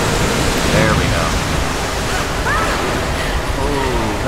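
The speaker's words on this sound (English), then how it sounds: "That is a big waterfall." A big waterfall in Rise of the Tomb Raider gives off a constant, loud roaring rush of water with no pauses, with faint chirping calls audible beneath the roar.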